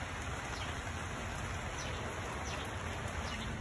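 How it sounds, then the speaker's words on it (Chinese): Steady rain falling outside a house with a deck and garden plants, a soft, continuous hiss with occasional drop patters, faint and even throughout, no voices. "外头在下雨"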